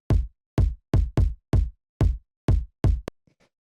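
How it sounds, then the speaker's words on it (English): Punchy kick drum sample with no effects, eight dry, tight hits in a steady pattern, each a sharp attack with a deep, quickly decaying low thump, followed by a short click and faint residue at the end. "So then the next thing we have here is this kick, which sounds like this."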